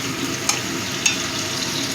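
Ginger-cumin paste dropped into a pan of frying onions and tomato for a fish curry, a steady low sizzle with two sharp little crackles of spattering oil.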